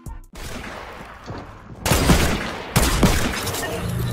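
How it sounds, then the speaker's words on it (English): Sniper rifle shots in a video game: two loud, sharp broadband blasts about a second apart, each with a ringing tail, over a steady noisy game background after a brief silent start. "Clips of me using a sniper."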